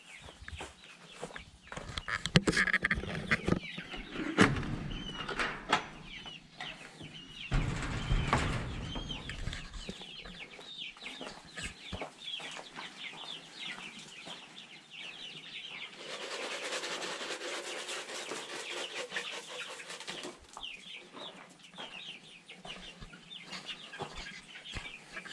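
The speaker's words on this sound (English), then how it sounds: "Chickens like having an extra room now that the meat birds are out." Chickens cluck and chatter softly in a backyard coop over about 25 seconds, with scattered close clucks and some rustling and flapping, then a stretch of broad noise in the later part, with no talking.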